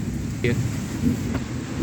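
Rain pours during a flood in a residential colony in Varanasi, a steady dense hiss with wind noise and a couple of faint brief knocks, heard from a rooftop.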